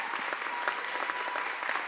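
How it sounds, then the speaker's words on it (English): An audience at a state education bill signing with the governor claps steadily, a dense even wash of applause filling the room without pause. "Let's give them a round of applause for their hard work."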